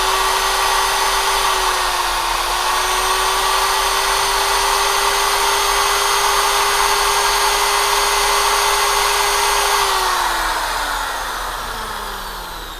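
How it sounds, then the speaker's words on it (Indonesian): An electric drill whines steadily at close range with a constant high motor tone, then winds down and fades in pitch toward the end as it is switched off. "Kita coba nyalakan bornya, kita lihat."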